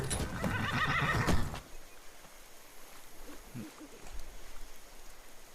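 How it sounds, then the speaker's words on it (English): Shadowmere, the black demon horse from the video game Skyrim, gives a loud, close whinny over the first second and a half, followed by quieter game ambience with faint hoof and snort sounds and no talking. "Alright, you badass demon horse."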